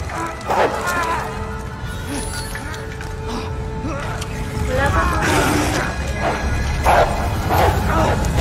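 A dog barks and yelps in the video game Resident Evil 2, short sharp calls scattered over several seconds amid game sounds and excited talking.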